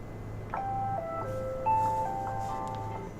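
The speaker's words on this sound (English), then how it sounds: "That was my alarm clock." A short electronic melody of clear beeping tones rings out over a low background hum, several notes in a quick tune.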